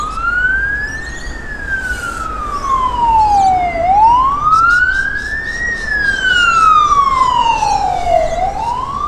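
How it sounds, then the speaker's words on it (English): A wailing ambulance siren sweeps slowly up and down in pitch, loud and close, over steady road noise on a street in central Melbourne. "There's a siren, an ambulance."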